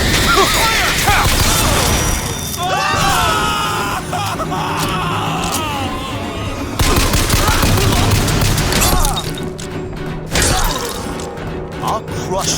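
Gunfire and chaotic combat in the video game BioShock Infinite, dense bursts of shots mixed with shouting voices, screams and shattering, loud and continuous throughout.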